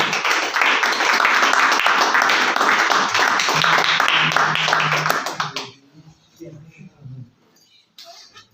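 Loud, sustained applause from a congregation at a church service fills the first five seconds with dense clapping, then quickly fades to near silence with only faint scattered sounds.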